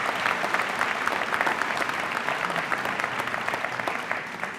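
An audience at a school ribbon cutting applauds the students with a sustained, even round of clapping from a moderate distance, fading slightly at the end.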